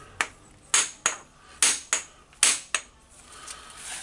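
Hammer tapping the corner of a part from a Hitachi DH40MR SDS-max hammer drill, seven sharp metallic strikes in an uneven rhythm, close and fairly loud, each with a short ringing decay.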